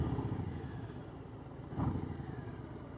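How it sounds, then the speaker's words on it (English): A 2023 Harley-Davidson Street Bob with a Milwaukee engine, heard while riding: a steady low engine drone mixed with wind rush, with a brief louder swell near the end. "This is the first time I've ridden a Milwaukee engine bike, and I'm impressed."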